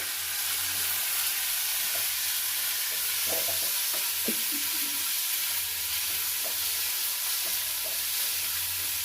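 Mint leaves fry in a couple of spoons of oil for pudina chutney, giving a steady broadband sizzle with scattered soft stirring scrapes and pops throughout, close and unbroken, with no talking.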